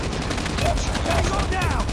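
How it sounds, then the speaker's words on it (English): Shotgun fire in the Call of Duty Mobile video game, a dense run of gunfire blasts under a steady bed of battle noise. Faint voices sound in the background. "Shotgun."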